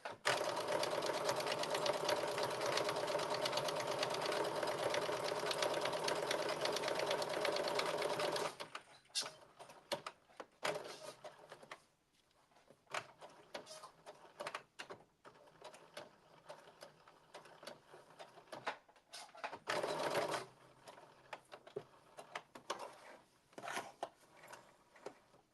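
A sewing machine stitches a blazer, running in one long continuous whir at first, then falling quieter with short bursts of stitching and handling noises between pauses, and no clear talking.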